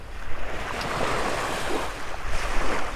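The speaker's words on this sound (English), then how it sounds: "There is noise from the waves" Ocean waves washing onto a beach on a calm, sunny day, a steady close wash of surf with rolling swells and a light rush of wind across the microphone throughout.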